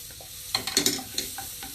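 Paneer stuffing sautéing in a pan gives a soft, steady sizzle, with a few louder scraping stirs bunched in the middle, close up and without talk.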